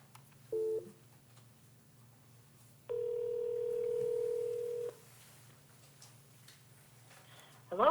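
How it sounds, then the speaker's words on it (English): A telephone places a call during a committee meeting, with a short electronic beep followed by a sustained, steady tone lasting about two seconds, then quiet line noise. "I'll go ahead and dial Wendy."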